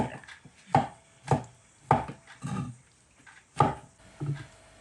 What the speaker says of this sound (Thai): หั่นบางๆประมาณนี้แนะจะหั่นบางๆ